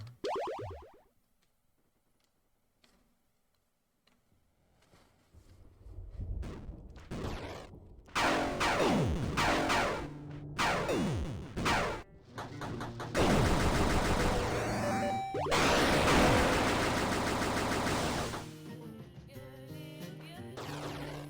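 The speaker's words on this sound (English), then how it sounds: "Alright, mortars, machine guns." Mortars and machine guns fire in the video game Axiom Verge 2: sparse pops and bouncy blips at first, then dense, loud volleys of rapid synthetic shots and explosions that build and persist.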